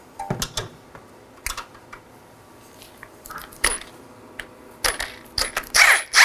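Metal wrench and socket clicks and clinks sound up close as control arm bolts on a 2013-2019 Nissan Sentra are snugged with 18mm tools, in short irregular bursts with quiet gaps between them.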